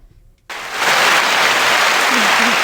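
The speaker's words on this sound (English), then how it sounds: "You got the applause." At the close of a live podcast episode, applause bursts in abruptly and holds as a steady, dense wash of clapping, with a brief voice faintly underneath.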